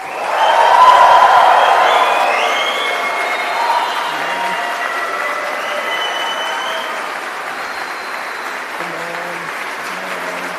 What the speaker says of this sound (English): Now can we debug this and give these people the applause they deserve?